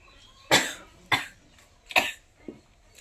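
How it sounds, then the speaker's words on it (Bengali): Four sharp, harsh coughs from a person suffering a bad cough, close and loud, evenly spaced with short gaps and a weaker final cough, with no talking. "কাশি হয়েছে, কাশি দিতে দিতে দম বন্ধ হয়ে যায়।"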